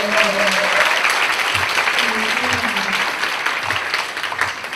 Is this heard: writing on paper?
no